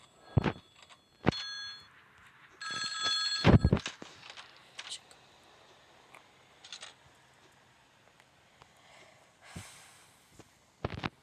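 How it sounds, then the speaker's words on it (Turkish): A phone rings in short bright bursts, several separate rings with pauses between them, fairly near, and no talking over it. "Telefon çalıyor"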